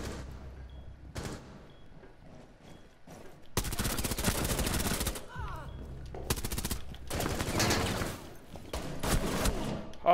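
Video game gunfire rattles in loud sustained automatic bursts, preceded by a few single shots, with long volleys dominating the second half at close range and no clear talk.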